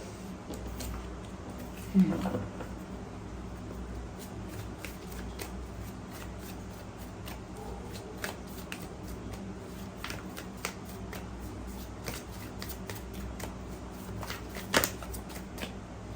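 Tarot cards are shuffled and handled close by in soft, continuous riffling and papery flicks, with a few sharper snaps standing out against a quiet room background.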